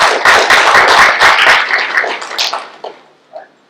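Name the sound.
audience applause for promoted officers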